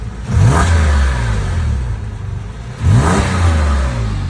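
A Porsche 997 engine revs twice in quick bursts, each rising to a throaty roar and then settling back to a rumbling idle, heard up close.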